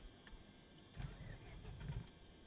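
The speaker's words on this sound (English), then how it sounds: "we'll get the engine started straight away" An aircraft engine cranks and tries to catch in Microsoft Flight Simulator 2020, a faint mid-pitched churning that surges twice over a low, quiet rumble, with soft clicks at the edges.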